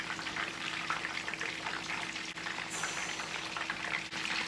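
Frosted flakes–coated chicken frying in a pan, a dense continuous sizzle and crackle of hot oil close up, steady throughout with a faint low hum beneath and no talking.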